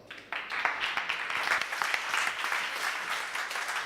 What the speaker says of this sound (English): Welcome with your applause